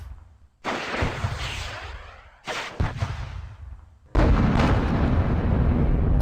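Weapons fire and explosions from the wargame Squad Battles Eagles Strike, with three booming bursts of artillery-like blasts and crackling shots, each followed by a decaying rumble, loud and close, no talk.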